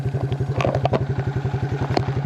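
A Suzuki four-wheeler ATV that had sat unrun for years idles nearby, its engine thumping in a steady rapid pulse with some clattering mechanical rattle over the top.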